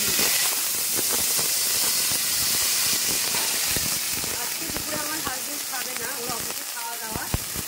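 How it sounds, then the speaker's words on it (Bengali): Vegetables and dried red chilies sizzle and crackle in hot oil in a kadai, a loud continuous close hiss with dense popping spatters throughout. "কড়াতে তেল গরম হয়ে গেছে, আমি শুকনো লঙ্কা ফোড়ন দিয়ে দিচ্ছি। আর দিয়ে আমি এবার সবজিটা সব ছেড়ে দেবো"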